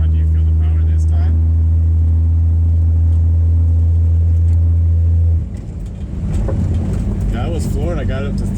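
A 1962 Rambler Classic on its first drive in 15 years accelerates at full throttle, a loud steady low engine drone that drops off near the end, followed by people talking inside the car.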